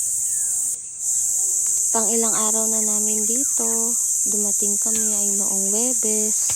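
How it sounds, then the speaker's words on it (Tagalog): Insects chirp steadily in a quiet countryside setting, a constant high buzzing drone underneath a person talking close by through most of the passage. "Yan, yung ingay ng mga insekto."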